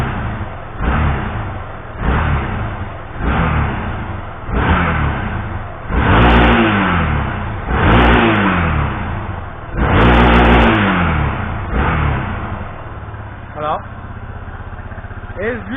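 A Yamaha XTZ Ténéré motorcycle engine idles with a throaty rumble, its cooling fan running, and revs repeatedly in loud surges without stalling, with a voice talking over it.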